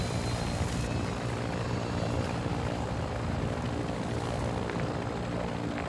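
A helicopter in the video game Call of Duty DMZ produces a continuous rotor and engine roar, loud and near, holding steady for several seconds without speech.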